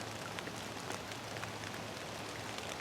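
Steady rain falling on surfaces, a dense continuous patter with scattered louder drops, no voices.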